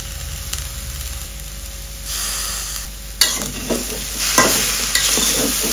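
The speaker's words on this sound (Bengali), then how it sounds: "এবার ভালো করে নাড়তে হবে যাতে লবণটা পেঁয়াজ মরিচ সব সুন্দরভাবে মিশে যায়।" Moringa leaves with onion, green chilli and salt being stirred in a frying pan, a continuous hiss of sizzling under brisk scraping and tossing strokes that grow louder in the second half, with no voices.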